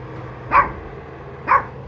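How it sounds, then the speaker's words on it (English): A dog lets out two sharp, loud barks about a second apart, set off by a big truck passing by, with quiet background noise in between. "and he's barking"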